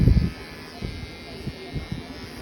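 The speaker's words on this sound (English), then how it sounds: "I'm going to hold my clippers in a pencil grip here, and I am going against the grain of the fur" Electric clippers shave an animal's fur against the grain at a veterinary clinic, giving a steady low, quiet buzz broken by a few soft dull bumps as the blade moves over the skin.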